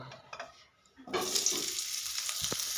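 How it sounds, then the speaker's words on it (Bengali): Onion dropped into hot oil in a wok (kadai) bursts into a loud, steady sizzle after a quieter first second, with a brief clatter near the end and no talking. "তেলটা গরম হয়ে গেছে, এইখানে আমি পেঁয়াজটা দিয়ে দেব।"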